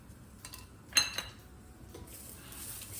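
A spoon scrapes and clinks against a pan while peanut sundal with grated coconut is stirred, giving a few soft metallic taps amid quiet shuffling.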